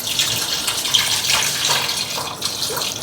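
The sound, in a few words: water poured into tamarind fish curry pot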